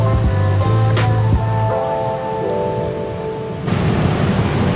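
Strong river current rushing over a small dam in a frozen river near Montreal, a steady loud broadband roar of water with some tonal hum early on, no voices.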